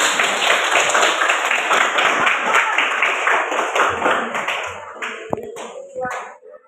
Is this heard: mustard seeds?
no